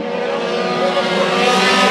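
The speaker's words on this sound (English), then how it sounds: "Take a listen as they come down the straightaway." Race cars roar past close by at Bakersfield Speedway during heat races, engines screaming loud and building in pitch and volume as they speed down the straightaway.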